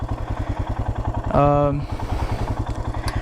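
A Royal Enfield Himalayan motorcycle engine runs off-road on a forest trail, thumping in a steady rhythmic beat up close, with a brief tonal burst partway through.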